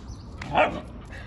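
A dog gives a single short, sharp bark or yip nearby, brief and alone against quiet background.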